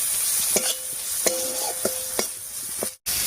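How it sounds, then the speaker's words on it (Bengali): Spoon stirring ground coriander and other ground spices into a drumstick (sojne data) curry in a pan, with scraping strokes at a steady rhythm over a soft background sizzle, close and moderately loud. "গুঁড়া মশলাগুলো দিয়ে খুব ভালো করে মিশিয়ে নিয়েছি"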